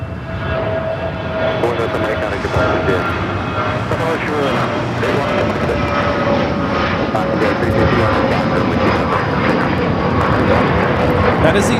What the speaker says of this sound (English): That is a Dassault Falcon 900